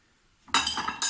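A spoon clinking against a pot while cumin and ginger are mixed in, a short burst of bright metallic clinks and scrapes after brief silence, close and alone.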